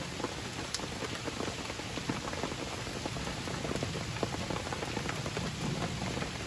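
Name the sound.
rain falling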